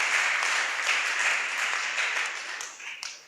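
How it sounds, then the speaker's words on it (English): A crowd at an entrepreneurship bootcamp event gives a burst of applause, dense clapping that fades toward the end, with some voices mixed in. "Let's first give them a very big hand clap"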